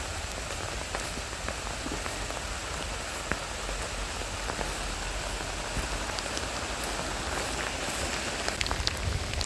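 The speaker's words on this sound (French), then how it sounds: "Il pleut de plus en plus fort." Heavy rain pattering steadily on surfaces, a dense hiss of drops with scattered sharper taps, constant and fairly close.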